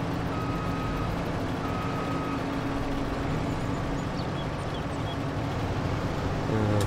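A tractor in a farming video game reverses a trailer into position, its steady engine drone running throughout with intermittent reversing beeps sounding over it, no talking.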